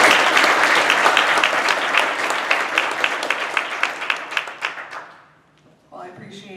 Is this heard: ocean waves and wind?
no